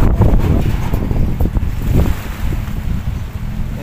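Steady, heavy northeast monsoon wind roars and buffets the microphone by the sea at a harbor, with rushing surf underneath, loud and continuous throughout.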